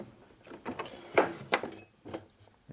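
A tool drawer in a Harley motorcycle repair shop is pulled open and handled, giving several short close clunks and rattles of metal tools in an uneven rhythm, with no talk over it.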